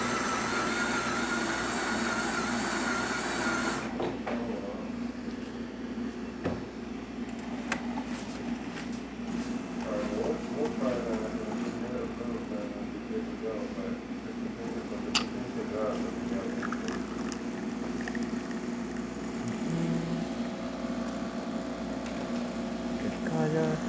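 A Jura coffee machine being checked after a ceramic valve repair brews an espresso, a steady pump hum and whir with intermittent clicks and gurgles, while a person talks over it.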